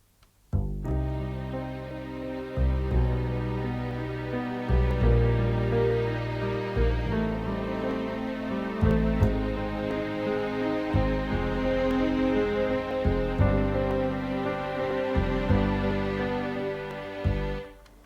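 A layered orchestral string arrangement plays steadily, sustained chords shifting every couple of seconds with a full, rich sound and no voices.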